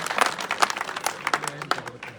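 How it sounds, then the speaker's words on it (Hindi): A rally crowd in Loyal claps to welcome Engineer Dharmpal Gurjar, with sharp, uneven bursts of hand claps over about two seconds and faint voices mixed in. "जोरदार तालियों से स्वागत करेंगे इंजीनियर धर्मपाल"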